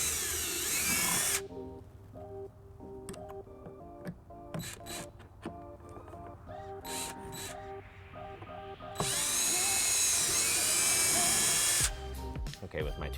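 A power drill bores a 13/64 hole through the plastic front fascia of a 2003 Lexus RX300, with two loud, sustained high whining bursts separated by quieter handling clicks and knocks.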